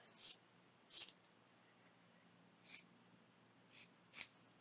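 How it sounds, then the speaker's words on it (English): Scissors snip a small piece of craft material for a junk journal, several separate crisp cuts spaced apart in a quiet room, close and fairly soft with no talking. "I would like to get another little piece of my material, and I would like to trim it"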